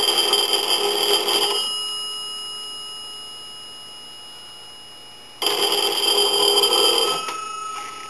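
An A&E three-slot payphone's telephone bell rings in two loud, buzzing bursts separated by a few seconds of quiet, each burst clanging for over a second before fading.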